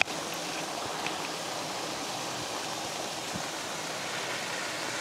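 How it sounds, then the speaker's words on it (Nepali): Waterfall at a private house with a garden of bushes and Buddha statues near Repulse Bay, a steady broadband rushing of falling water, continuous and moderately distant without voices. "अनि त्यहाँ मजाको झरना छ"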